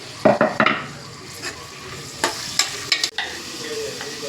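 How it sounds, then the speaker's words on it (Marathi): Finely chopped onion frying in a pan for chicken gravy, a soft continuous sizzle under a quick cluster of stirring scrapes at the start and a few more spaced scrapes later. "आता बारीक चिरलेला कांदा टाकायचा"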